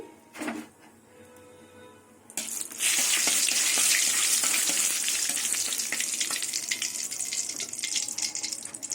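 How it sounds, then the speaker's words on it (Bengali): Dried red chilies drop into hot oil and burst into a loud, sustained crackling sizzle after a few seconds of quieter kitchen clatter, frying steadily up close. "তেল গরম হয়ে গেছে এবার চারটে শুকনো লঙ্কা দিয়ে দিলাম"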